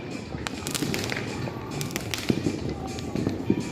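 Repeated firecracker bangs, some sharp and close, others duller and distant, popping irregularly over a murmuring background with faint voices.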